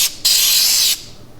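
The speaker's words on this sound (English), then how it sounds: "I'm going to go ahead and spray some of these other fish with some of this oil" Cooking oil sprayed onto fish fillets in an air fryer basket: a single steady hissing burst of about three-quarters of a second, close and loud, with a short puff just before it.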